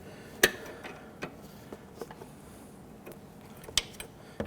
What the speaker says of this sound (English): take that wrench and just move that nut back and forth